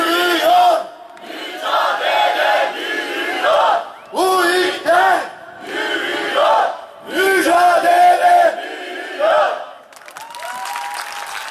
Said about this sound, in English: And they chanted slogans with great enthusiasm.